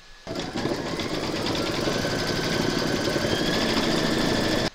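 An embroidery machine stitches an appliqué design in a hoop, a loud, fast, even mechanical rattle that starts abruptly, runs steadily for several seconds, then stops.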